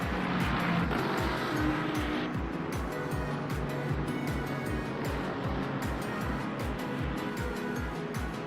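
Race cars in the Le Mans Ultimate sim, a Lamborghini battling a Lexus, roar steadily with rapid repeating engine pulses and gear changes, a continuous loud mix with no talk over it.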